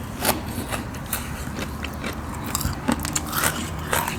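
Biting and chewing crispy deep-fried pork leg: close, crackly crunches and scraping bites come irregularly over a steady chewing texture, with no talk.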